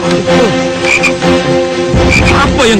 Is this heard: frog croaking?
yes